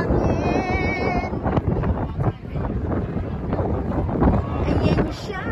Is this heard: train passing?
no